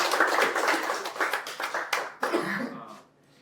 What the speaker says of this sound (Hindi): रियली गौरांग जी के लिए तालियां जोर से बजनी चाहिए